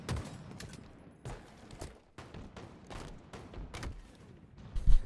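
Gunfire in a Gears of War match pops in scattered sharp bursts, with a louder final shot near the end, heard alone without talk.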